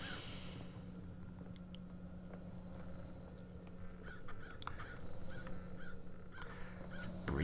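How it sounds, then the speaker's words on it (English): Several crows caw in scattered short calls in the video game Paradise Killer, over a steady low hum and ambient background noise, moderately distant, with no talking. "I like the crows."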